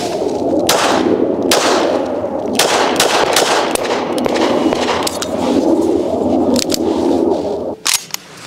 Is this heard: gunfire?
yes